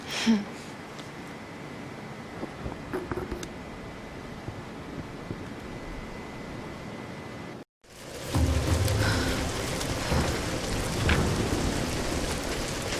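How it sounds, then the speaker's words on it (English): Heavy rain pours steadily in a Tomb Raider video game storm, a broad hiss that cuts out for a moment and then returns louder, with low thunder rumbling beneath it. "We're getting closer to the storm."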